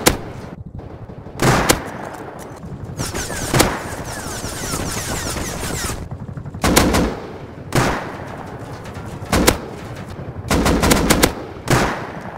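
Gunfire from the survival video game Rust, with loud bursts of shots and automatic fire breaking out repeatedly over a steady game backdrop across the whole stretch, no talking.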